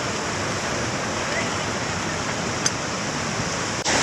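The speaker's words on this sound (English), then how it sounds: "Apparently you can slide down that waterfall right there." Steady, full-band rush of the waterfall on the Rose River in Shenandoah, a close and constant roar of falling water with no gaps, one small click partway through and a soft thump near the end.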